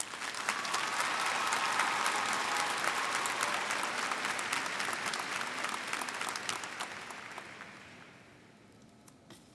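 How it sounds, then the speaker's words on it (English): A large audience at a 2021 Butler Tech graduation ceremony applauds steadily, a dense wash of clapping that stays full for several seconds and then fades away toward the end. "Please join me in another round of applause for these students."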